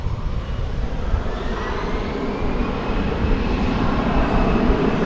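An American Airlines jet takes off from runway 18 left at DFW Airport with a loud, sustained engine roar, a faint rising whine threading through the dense rumble.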